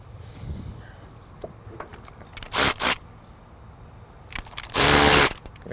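A power tool runs down nuts on a Duramax diesel hand primer fuel filter head, with short loud whirring bursts, two brief pulses and then a longer run, over quiet shop background.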